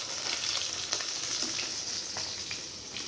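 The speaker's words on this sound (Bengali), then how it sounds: "মাছটা কিন্তু উল্টে দিয়েছি আমি। মাছটা ভাজা হয়ে গেছে" Fish frying in hot oil for a mango fish curry, a steady close sizzle with faint crackles, no talking.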